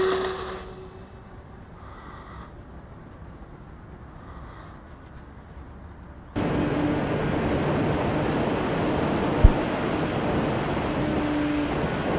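Sukhoi model jet aircraft on an easy takeoff, quiet at first, then a sudden steady loud turbine roar with a high whine that holds to the end, one brief thump partway through, no talk.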